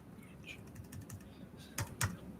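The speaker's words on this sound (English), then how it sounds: "Bluetooth keyboard still clunking along." A Bluetooth keyboard is typed on quietly in uneven clusters of soft key clicks, with two sharper, louder taps near the end, against a low background hum.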